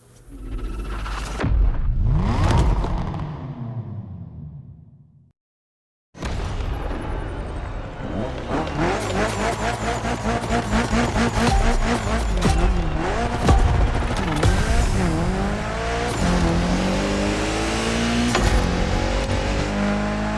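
Mitsubishi Evo 9 driven through a gymkhana course in The Crew Motorfest video game: a loud, continuous engine roar with rising and falling revs and tire squeal, broken by a brief silent gap near the start.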